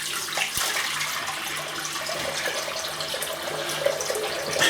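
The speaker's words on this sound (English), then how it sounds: "I'll rinse my hands." Tap water runs steadily into a bathroom sink while hands are rinsed, a continuous close splashing wash with faint drips and handling noise, no voices.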